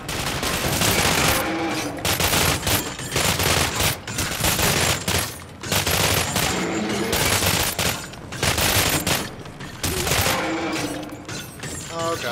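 Rapid automatic gunfire in the video game Cryostasis, loud, dense bursts repeating in quick succession across the whole stretch with brief gaps between volleys.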